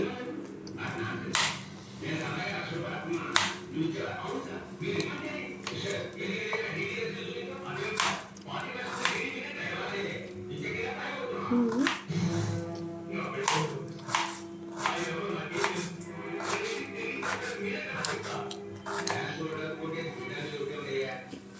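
Knife chopping vegetables such as carrot, potato and cabbage into pieces, a steady series of sharp taps on a board running throughout while a person talks over it.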